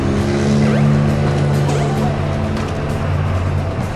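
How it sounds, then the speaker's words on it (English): A loud, rumbling vehicle engine roars past in Super Smash Bros. Brawl's Subspace Emissary, droning steadily over game music with a brief screech midway. "you guys probably heard that vehicle"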